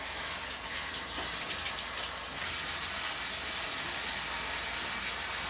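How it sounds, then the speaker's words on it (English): Tree collard leaves rinsed under running water, a steady gushing faucet stream with light splashing and rustle at first, then a smoother continuous flow, moderately quiet. "We're going to wash it, just rinse it real good,"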